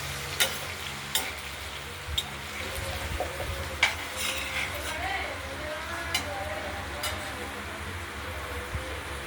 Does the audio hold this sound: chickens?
no